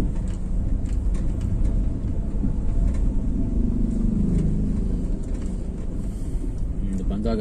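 Manual car accelerating gently on a quiet road, a low steady engine rumble with road and wind noise inside the cabin, while people talk over it.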